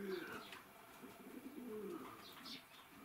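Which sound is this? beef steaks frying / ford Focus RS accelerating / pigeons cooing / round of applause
pigeons cooing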